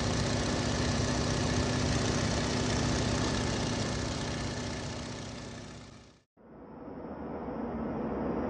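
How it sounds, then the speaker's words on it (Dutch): A twin-engine airplane roars with a dense, steady droning hum, loud and sustained, briefly dropping away before the engines swell back at full strength. "Tweemotorig vliegtuig."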